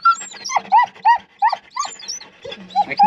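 A dog on a farm whimpers and whines in quick, repeated high-pitched yelps with short gaps, close and fairly loud, over a faint low background hum.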